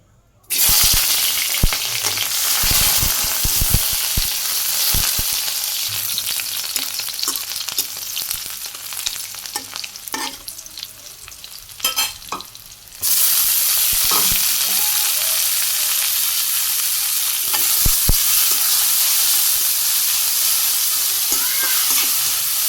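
Amaranth greens (data shak) fry and sizzle in a pan in a Bangladeshi village kitchen, a loud, constant hiss with intermittent scraping stir strokes, briefly quieter midway before the full sizzle resumes.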